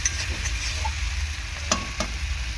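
Pointed gourd and potato being stir-fried in a pan, with a steady close sizzle of frying and a couple of sharp utensil scrapes against the pan.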